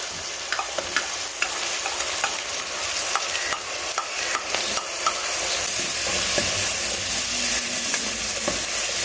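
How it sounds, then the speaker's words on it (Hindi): Tomatoes frying in a pan for chicken macaroni, stirred over steady loud sizzling with repeated scrapes of a spoon close by, continuous for several seconds and no voices. "टमाटर डालने के बाद फिर हमने अच्छी तरह हिला लेना है इसे।"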